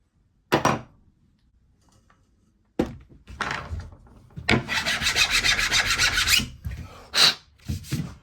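Someone works a hole into wood for a fixing: a sharp knock, then rasping and scraping strokes that build into a sustained grinding, followed by a few louder knocks close by. No speech.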